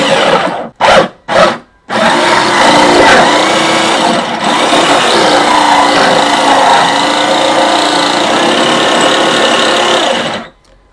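A power drill bores through a wooden box with a drill bit, loud and close: a few short bursts and then one long, steady grinding whine lasting about nine seconds before it stops.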